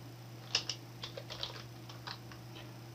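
Someone types a web address on a computer keyboard, a quiet run of irregular key clicks over a low steady hum, with no talk.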